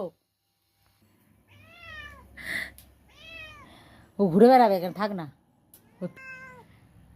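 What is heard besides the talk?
cat meowing indoors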